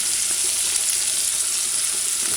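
Ackee and salt fish sautéing in a pan, giving a dense, even, close-up sizzle that holds steady throughout.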